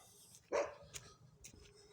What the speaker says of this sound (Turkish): Köpek bana havlıyor.